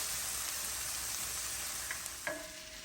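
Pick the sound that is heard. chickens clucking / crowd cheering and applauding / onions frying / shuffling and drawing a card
onions frying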